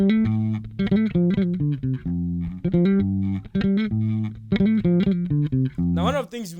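A bass guitar plays an African groove line of short plucked notes in a steady repeating rhythm, loud and close, with a brief sliding flourish at the end.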